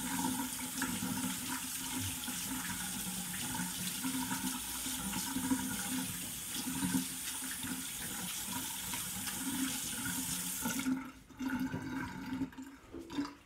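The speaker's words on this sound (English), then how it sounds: "Make sure you rinse your hands for 20 seconds." Running tap water splashes steadily into a kitchen sink as hands are rinsed, a continuous close stream that shifts in tone and cuts off near the end.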